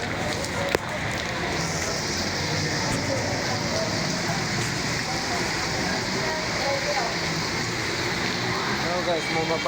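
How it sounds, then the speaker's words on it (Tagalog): Heavy rain pours onto a flooded street near an LRT station, a steady dense hiss with water splashing throughout, while someone talks over it. "Grabing ulan guys."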